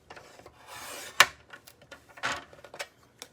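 Scissors or a trimmer cut card stock for a handmade card, giving a few soft dry rasping and rubbing strokes with a sharp snip in the middle, close and quiet with no talking.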